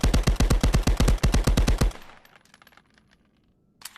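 A rapid burst of full-auto MP40 submachine gun fire in the Guns of Tabor game, about a dozen loud evenly spaced shots over two seconds, then the gun runs dry and quiet mechanical clicks and rattles follow.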